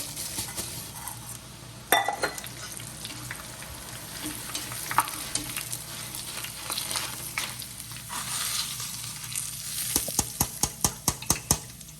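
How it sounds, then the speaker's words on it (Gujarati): Steady sizzling of rice flakes frying in hot oil for chevdo, with occasional stirring scrapes and a quick run of metallic clinks near the end. "ધીરે ચોખાના પૌવા તળીશું।"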